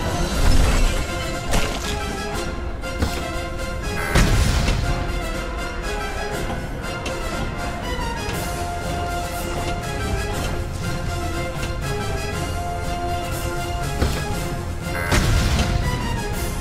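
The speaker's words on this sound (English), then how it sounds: "Bring in the heavy artillery." Heavy artillery fire in the Star Wars pinball video game, Battle of Mimban table: repeated booming blasts and crashing impacts over a dense, continuous layer of game music and effects, with bigger hits near the start, middle and end.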